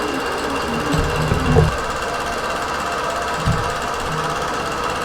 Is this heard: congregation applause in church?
no